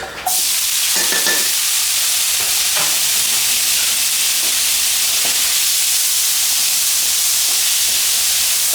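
Green and yellow bell peppers, spring onion, two chillies and crushed garlic are stir-fried in a hot pan, giving a loud, steady sizzling hiss with a few clinks and scrapes of tossing, close up and with no talking.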